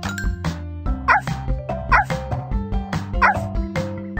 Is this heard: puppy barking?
yes